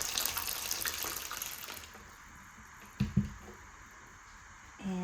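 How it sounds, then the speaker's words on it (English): Water is poured from a pitcher into a dish holding oranges: a steady splashing pour for about two seconds, then quieter, with a couple of soft knocks and a brief trickle near the end. "Let's place our oranges in the dish and fill it with water."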